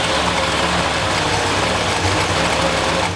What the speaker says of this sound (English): It's idling too low.